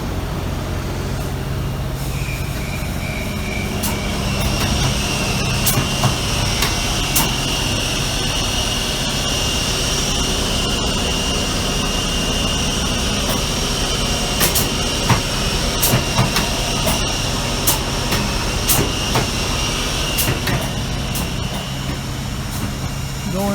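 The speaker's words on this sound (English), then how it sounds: "Diesel power." A diesel engine runs steadily at a construction site for a new HVAC facility project, a loud continuous drone with a high whine above it and scattered clanks throughout.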